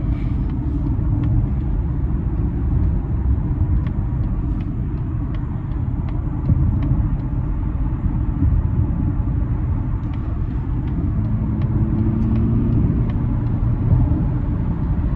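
A 2024 Mazda CX-50 Meridian SUV accelerates on the road, heard from inside as a steady, loud low rumble of engine and road noise, with faint ticks above it and no speech.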